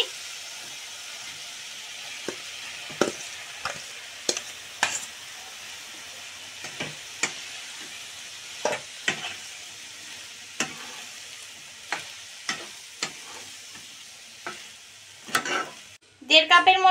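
Rice is stirred into fried masala for egg biryani, a steady low sizzle broken by regular spoon scrapes against the pot, up close with no talking, and a louder clatter at the end.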